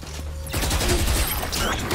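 Rapid automatic gunfire sprays in a competitive shooter video game, a dense, loud burst of shots lasting about a second and a half, mixed with game noise.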